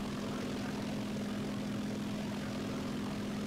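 A propeller aircraft engine from the War Thunder video game drones steadily and evenly, close and loud, with no talk over it.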